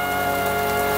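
Heavy rain pours steadily at a lake in Mindanao, a dense, even wash of drops with a continuous tonal hum running beneath it and no voices.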